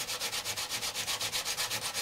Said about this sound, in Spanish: Que darle una pasada en la lijadora.